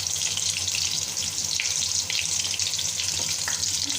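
Koftas fry steadily in hot oil with a dense, continuous sizzling hiss and occasional crackles, loud and close, with no talk.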